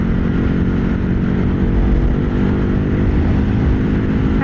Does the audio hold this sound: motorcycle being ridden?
yes